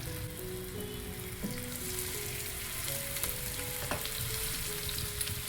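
Mixed batter is poured into hot oil where cumin seeds were already spluttering, giving a dense, steady sizzle with scattered crackles and pops close by, all without talk.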